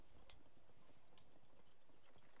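Rapid hoofbeats from a running goat in Zelda: Breath of the Wild, a steady quick clip-clop over a fairly loud game backdrop with no talk.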